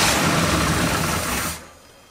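A muscle car engine left in storage for 33 years cranks with a dense, loud whir for about a second and a half, then cuts off abruptly into quiet.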